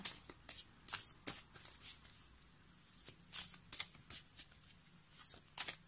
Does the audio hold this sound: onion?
no